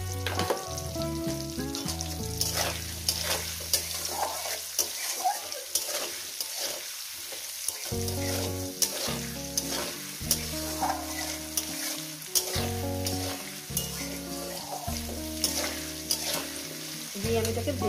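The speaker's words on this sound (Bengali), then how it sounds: "আলুটাকে মিনিমাম আমি 2 মিনিট একটু ভেজে নেব।" Potatoes fry in a pan with a constant sizzle, while a utensil scrapes and stirs them in repeated rhythmic bursts, close up and without speech.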